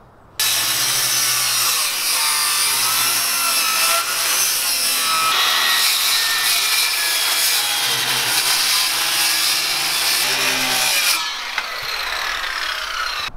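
Steady, continuous handsaw strokes cutting through wood during a cabin build, making room for a plate; loud and close, running almost without pause from start to finish with no talking.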